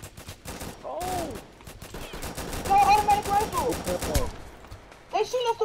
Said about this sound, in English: They shooting us through a wall